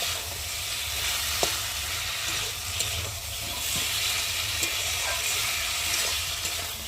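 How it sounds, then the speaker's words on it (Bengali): A curry fries vigorously in a pan as green peas go in, a dense, loud, continuous sizzle with occasional spatters and stirring knocks, close and without talk. "আর এখন আমি ঘরে কটা মটরশুঁটি ছিল, সেই মটরশুঁটি কটা দিয়ে দিলাম।"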